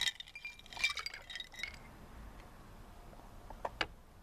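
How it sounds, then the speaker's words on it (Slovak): Ice cubes clink and tinkle into a glass while an iced matcha tea is made, with a quick cluster of light, faint clinks followed by a few later ticks. "Pohár doplníme ľadom."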